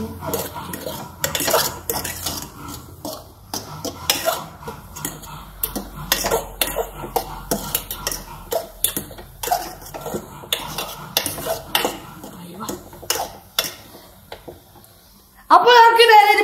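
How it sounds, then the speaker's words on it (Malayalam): Chilli powder being stirred into noodles in a pan, a steady run of utensil scrapes and clinks against the metal under continuous talking, with a louder burst at the very end. "മുളക് പൊടി അത് നമുക്ക് ഇളക്കി കൊടുക്കാം"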